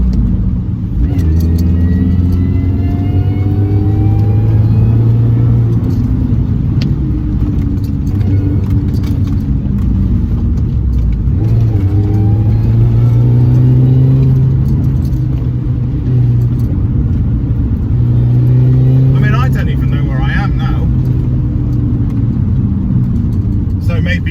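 Car fitted with a lightweight crankshaft pulley accelerates and revs under driving, a steady loud engine drone with rising pitch sweeps as it pulls through the gears, close and continuous throughout.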